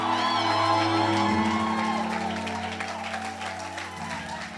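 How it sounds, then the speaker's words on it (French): A church congregation shouting with joy and applauding, a loud sustained roar of cheers and clapping that slowly eases, with organ or keyboard tones underneath. "Est-ce que je peux voir des vaillants héros dans cette salle pousser des cris de joie?"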